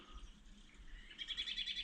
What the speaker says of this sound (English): This old crime scene cat Claude watching a bird video.